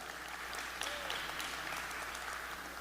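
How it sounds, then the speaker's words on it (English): Audience applause at a road-safety symposium, a steady, dense wash of clapping from a large crowd, moderately loud and continuous throughout without pause. "Clap it up."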